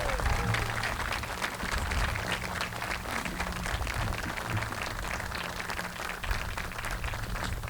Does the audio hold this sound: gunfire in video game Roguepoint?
no